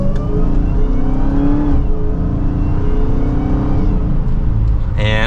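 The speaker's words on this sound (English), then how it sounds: "you can hear some of that supercharger whine, a little bit of the exhaust" A 2023 Dodge Charger SRT Hellcat Widebody Jailbreak pulling hard in second gear on the road, with a steady loud engine roar, a rising supercharger whine and exhaust drone heard from inside the cabin.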